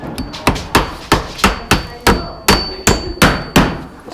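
Hammer driving nails to fasten tapered wooden clapboard siding around a window installation, about a dozen sharp, evenly spaced blows ringing out loud and close with no talking.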